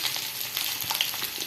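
Spices are tempered in hot oil for a chilli-coconut rice mix, giving a soft, steady sizzle with scattered tiny crackles and pops, close and unbroken, with no voices.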